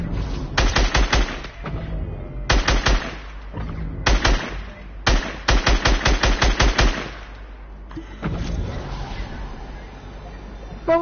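Rapid automatic gunfire from the video game Fortnite rattles out in several sharp bursts, loud and close, with short gaps between volleys and faint voices in the background.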